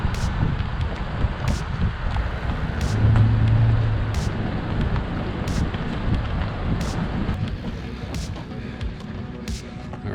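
A big Toyota crew cab truck rolls in at an overland expo, with a steady engine and road rumble, wind buffeting the microphone, and faint periodic ticks over the drone.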